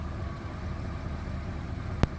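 An RV engine idles with a steady low rumble, moderately loud and continuous, with one short sharp click or knock near the end.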